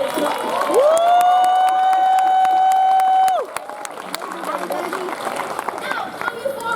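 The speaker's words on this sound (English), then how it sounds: "So may I hear another round of applause?" Crowd at the Pennsylvania Renaissance Faire finale applauds and cheers outdoors. A long held tonal note rings out first, then steady clapping continues to the end over a voice.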